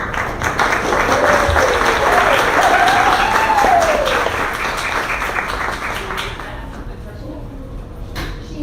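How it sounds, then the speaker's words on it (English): A room audience gives a round of applause to welcome a speaker, dense clapping that swells early and then gradually thins and fades, while a voice speaks over the first half. "let's give a round of applause"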